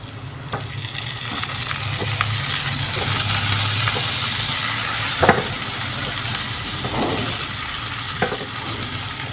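Butter sizzles in a pan with frying ginger, onion and garlic, a steady loud crackling hiss with a few sharper pops and stirring clinks, and no talking.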